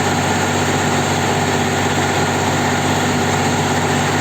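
A walk-behind rotary tiller's engine runs at about 1500 rpm, turning its blades at roughly 130 rpm. The drone is steady and close, with a low rumble and vibration throughout and no voices.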